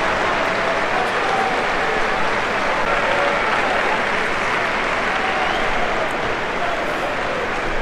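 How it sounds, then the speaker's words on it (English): Football crowd in a Swedish stadium clapping after a goalless Stockholm derby between Djurgården and Hammarby, a steady, broad wash of applause from thousands of spectators that holds at an even level throughout. "Sort of depressive clapping, unfulfilled promises from both teams today."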